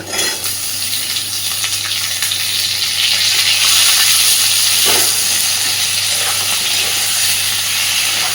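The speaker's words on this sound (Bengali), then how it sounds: "তাহলে পেঁয়াজের সাথে আলু বেগুনটাই একসাথে সুন্দর করে ভাজা হতে থাকবে।" Cubed potatoes and eggplant fry in a pan with softened onion and green chilli for a fish curry, a loud, steady, close sizzle with soft stirring scrapes throughout.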